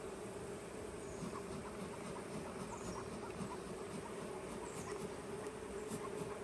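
Honeybees hum in a dense, steady low drone during a hive inspection after a swarm, faint and unbroken throughout with no talking.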